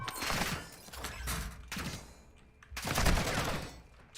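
Bursts of gunfire ring out in the distance outdoors near East 105th, with rapid cracking volleys that swell and fade over several seconds and no talk over them.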